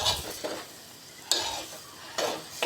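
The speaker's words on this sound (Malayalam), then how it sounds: "നമുക്ക് നല്ലവണ്ണം ചിക്കി തോർത്തിയെടുക്കാം." Mushroom thoran being stir-fried until dry with pepper and fennel powder, a low sizzle broken by three distinct scraping strokes of a spatula against the pan, close and moderately loud, no voices.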